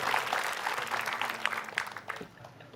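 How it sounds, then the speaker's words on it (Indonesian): Audience at a stand-up comedy show clapping, a short burst of applause that tapers off within a few seconds, moderately close with a light murmur underneath. "Tepuk tangan dulu dong sekali lagi yang semangat"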